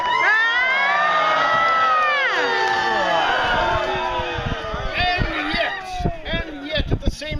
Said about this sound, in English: the crowd greets her with cries of horror